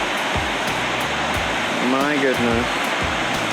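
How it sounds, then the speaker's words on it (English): Waterfalls at Roberto Barrio near Palenque roar in a loud, steady broadband rush close by, while a voice briefly exclaims over the water. "We've already found some little waterfalls."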